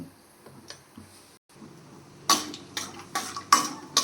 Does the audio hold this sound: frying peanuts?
yes